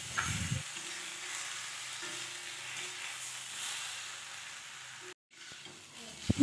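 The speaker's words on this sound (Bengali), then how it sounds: "মাছগুলি দিয়ে আবারও একটু সময় ভেজে নেব।" Fish heads and fish pieces fry with rice in a pan for a Bengali murighonto, giving a steady, soft sizzle that runs throughout with a brief pause near the end.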